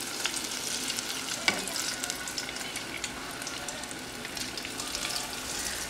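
Broccoli sizzles and crackles in hot oil, a busy steady frying hiss with scattered pops and a brief clatter partway through.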